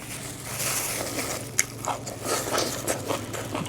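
Close crunchy bites and chewing of a spicy Thai bamboo shoot salad made with boiled bamboo shoots, with a constant low hum in the background and no talk.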